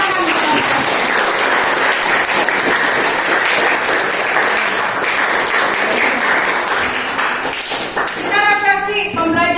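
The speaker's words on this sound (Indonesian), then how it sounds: "Tepuk tangan." Classroom applause fills the space, a dense, steady clapping from a group of students that carries on loudly for nearly ten seconds, with a few voices rising near the end.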